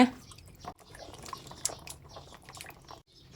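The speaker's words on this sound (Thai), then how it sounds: "ครบเวลาแล้วก็นำมะนาวมาล้างน้ำเปล่านะคะ" Lemons rinsed in plain water after a half-hour salt-water soak, made ready for quick pickling, give off close, soft drips, splashes and squishy handling noises in short irregular bursts, with no one talking.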